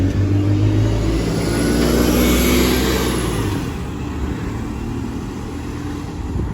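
A bus engine pulls away from the Ashford International bus stop, a loud, close mid-pitched rumble that swells, then eases off as the vehicle moves away. No one speaks.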